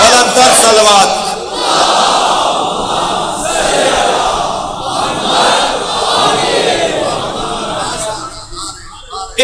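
A large congregation at a Shia majlis loudly reciting salawat in unison, a dense roaring chorus of many voices sustained for several seconds in waves, filling the hall.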